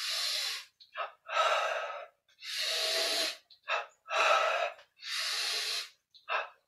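A breathing exercise: slow, deliberate breaths close to the mic, long airy inhales and exhales alternating in a regular rhythm with short gasping catches between them, about five full cycles.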